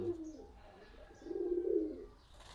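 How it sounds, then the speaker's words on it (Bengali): Indian Madrasi high-flying pigeons coo nearby in two soft, throaty, rolling calls over quiet background hiss. "এটা কাপড় ডুডি পায়রা।"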